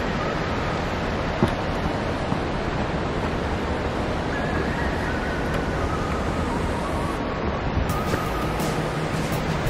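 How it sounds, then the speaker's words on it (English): Mooney Falls, a waterfall in Havasupai, gives a steady, loud broadband roar of rushing water that stays constant throughout, with no talking. "the waterfall is right there"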